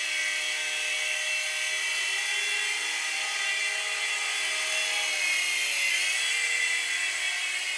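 A LiteHawk Mini 3-channel RC helicopter flies nearby, its small rotor and motor giving a steady, high-pitched whine that holds constant throughout with no talking.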